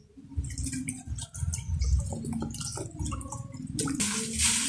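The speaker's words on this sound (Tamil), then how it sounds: "இப்போ நாங்கள் பருப்பவிய தேவையான அளவு தண்ணி விடுவோம்." Water is poured into a cooking pot of lentils in a village kitchen, a close, bubbling, splashing pour that rises and gurgles for several seconds.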